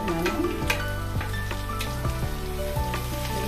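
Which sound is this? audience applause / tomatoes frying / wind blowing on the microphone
tomatoes frying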